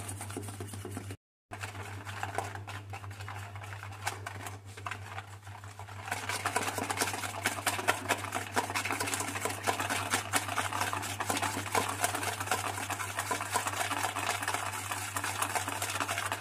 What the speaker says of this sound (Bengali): বেশ কিছুক্ষণ ধরে আমি চিনির সাথে ডিমটা ভালো করে ফেটিয়ে নিয়েছি